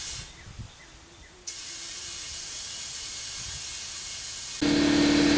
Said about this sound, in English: I spray all the way around the rim and I spray a little in the valve stem